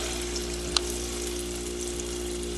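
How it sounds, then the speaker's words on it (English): Cameroon-style puff-puff dough fries in hot oil at medium heat, giving a steady close sizzle with one brief sharp crackle, with no one talking over it. "As you place it in the oil, you place it with the"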